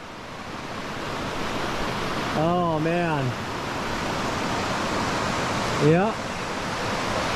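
Rushing floodwater beside the Appalachian Trail gives a loud, steady broadband roar through the whole clip, with two brief spoken exclamations over it.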